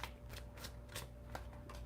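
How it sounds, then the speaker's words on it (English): Tarot cards being shuffled and drawn during a monthly reading, heard as a steady run of soft, close riffling card flicks and slides repeating about every third of a second over a faint background hum. "It looks like the cards are starting to come out now."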